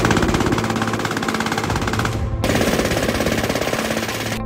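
An MG42 machine gun fires sustained bursts into a gel dummy, a dense rapid rattle of shots that runs without pause, loud and close, with no voices.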